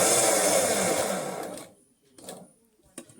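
Sewing machine stitches cloth in a tailoring class, whirring loudly and steadily for about a second and a half before stopping, then a few faint handling clicks and soft noises follow.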